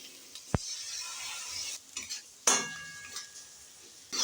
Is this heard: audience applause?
no